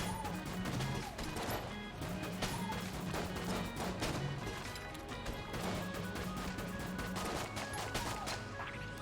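A small bomb goes off during Enter the Gungeon gameplay, amid a dense, continuous barrage of loud crashes, bangs and gunfire-like bursts layered over steady game music.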